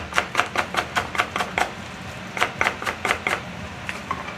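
A knife chops green onion on a cutting board in a quick series of close, sharp taps, about a dozen strokes in two bursts with a short pause between them.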